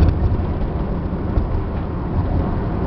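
A Chevy Class C motorhome climbs a hill at about 55 mph, heard from inside as a steady, loud low engine and road drone with no talking.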